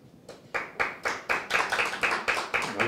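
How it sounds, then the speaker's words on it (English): A few people at a food packaging conference clap in a steady, even rhythm, the claps growing slightly denser after the first second; small and nearby, no voices. "Round of applause."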